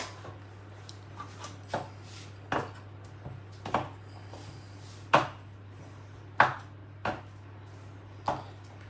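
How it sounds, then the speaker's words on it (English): A knife cuts butter into pieces on a board while preparing a simple homemade recipe, giving a series of sharp, spaced chopping taps over a faint steady hum, with no talking. "And now I'll be cutting the butter into pieces."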